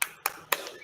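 Children clap out a rhythmic "tepuk hebat" routine in a classroom, three crisp hand claps in quick, evenly spaced succession, close and clear.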